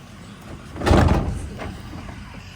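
Broken wooden barn door being dragged open, a loud close scrape and rumble swelling for about a second and trailing off into a quieter grinding hum.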